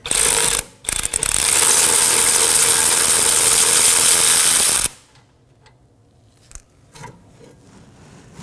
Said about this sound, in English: Hold the bracket while you remove the last bolt.